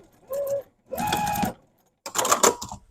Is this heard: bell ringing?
no